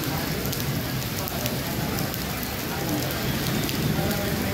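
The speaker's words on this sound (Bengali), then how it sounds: "দুবাই কখনো এরকম বৃষ্টি হচ্ছে না," Steady rain falls in Dubai, UAE during a storm, a dense, even hiss of drops on surfaces lasting throughout with no clear thunder.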